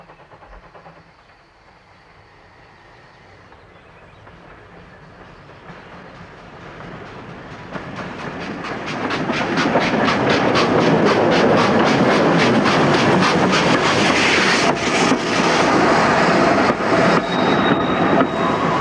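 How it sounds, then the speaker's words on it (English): Train pulling into a country station on market day, its rumble swelling from faint and distant to a loud, close clatter of wheels with rhythmic clickety-clack over the rails, sustained to the end without speech. "I can't think why the train's late."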